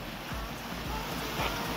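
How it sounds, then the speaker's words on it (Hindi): River water rushing beneath a bridge as a steady, broad wash of noise, continuous and fairly loud with no talking over it. "इधर दिखाते हैं आपको नदी।"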